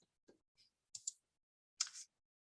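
Computer mouse clicks during website sign-in, several short, crisp, quiet clicks spaced irregularly over near-silence, with two sharper clicks toward the end.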